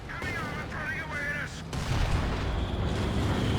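Rapid booms and crackling gunfire from the video game Company of Heroes 2, with artillery blasts thudding over a dense, noisy battle bed.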